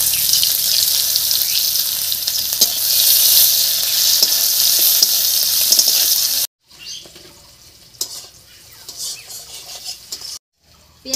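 Chopped onion frying in hot oil with whole cumin, a loud steady sizzle up close that drops off abruptly partway through, then returns as a quieter crackle with occasional stirring clatter.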